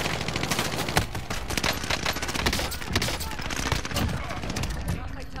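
Dense, continuous gunfire in the video game Warzone, with rapid automatic bursts and overlapping shots filling the whole stretch, loud and close, while players talk over it.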